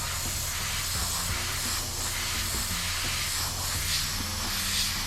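An airbrush softly sprays a base coat onto a car hood liner, a continuous close hiss with slight swells in pressure and no talking.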